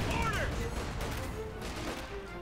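Battle noise from a Company of Heroes 2 match: bursts of gunfire and grenade blasts crackle steadily through a chaotic real-time strategy fight, while a commentator talks over it.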